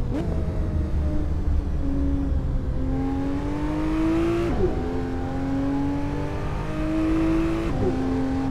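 Engine note of cars in traffic within the Assetto Corsa racing game on a free-roam road at Batang Kali, with steady revving, gear shifts and rising whine as vehicles accelerate and pass, loud and continuous throughout with no talking.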